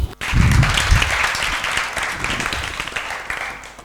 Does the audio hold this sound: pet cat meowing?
no